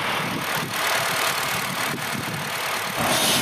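A second-generation Honda Fit RS with a stock exhaust idles steadily at moderate volume, a low continuous rumble with slight dips and swells and no voices.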